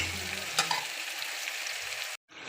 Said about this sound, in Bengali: এটা এখন শুধু আমি এটা তেলের মধ্যে কষিয়ে নিব, ভাজা ভাজার মতো করে এটা কষিয়ে নিব।